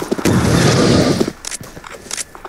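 Gunfire in the Roblox shooter Poly Guns, a loud, dense stretch of shooting and blasts for over a second that breaks into scattered, quieter pops and cracks.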